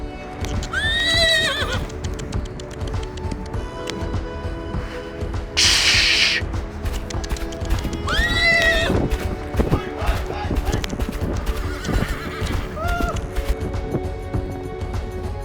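Horse hooves clip-clop steadily throughout a riding lesson, with several loud whinnies and a brief hiss, while an instructor talks over the sound.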